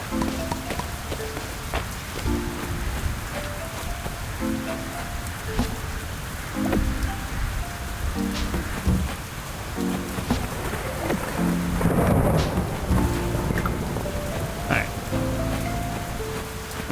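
A thunderstorm in Fields of Mistria: steady rain hisses over soft, plinking game music, and a deep rumble of thunder swells midway before fading back into the downpour.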